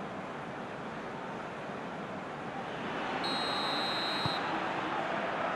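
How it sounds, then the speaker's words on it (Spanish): A referee's whistle sounds to start the second half of a PES 2021 football match, a steady high tone lasting about a second over the hiss of stadium crowd noise. "Suena el pitido que marca el inicio del segundo tiempo."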